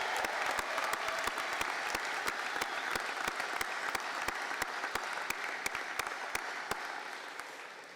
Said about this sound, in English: give me a little bit of a round of applause for the people who are behind the scenes